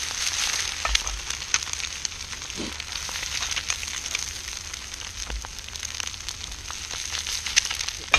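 An egg sizzles and crackles in a pan over a backpacking stove, a steady close frying hiss with small pops and no voices.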